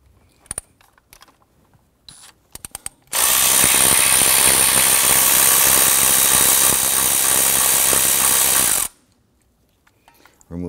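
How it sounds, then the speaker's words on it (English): A 10 mm socket on a ratchet loosens the ignition coil anchoring bolt on a Nissan Frontier 4.0L V6, with a few light clicks, then one loud, steady ratcheting burst of about six seconds, followed by quiet clicks. "Use a 10 millimeter socket to loosen the anchoring bolt here for that coil."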